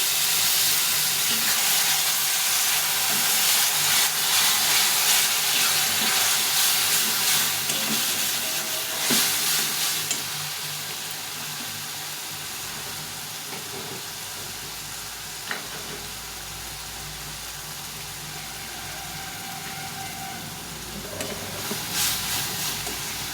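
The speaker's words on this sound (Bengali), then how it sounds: "এটা একটু জল দিয়ে একটু কষিয়ে নেব।" Kashmiri chili powder masala for a dried-pea ghugni fries with a splash of water, giving a steady, loud hissing sizzle that softens midway and continues more quietly, with occasional stirring.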